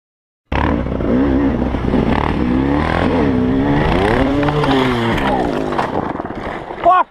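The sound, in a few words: dirt bike engine revving with stuck throttle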